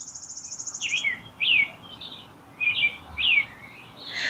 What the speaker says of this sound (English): The birds sing in the morning,